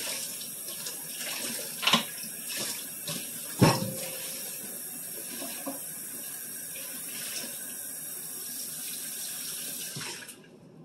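Hot soapy water runs steadily from a kitchen faucet into a sink during countertop cleaning, a continuous close splashing stream with a couple of brief louder clunks before it cuts off near the end.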